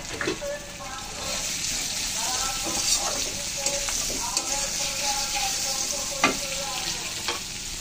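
Leafy greens with turmeric and plenty of green chillies sizzle and crackle in a hot pan, with steady frying hiss and repeated scraping strokes of a spatula as they are stirred close by.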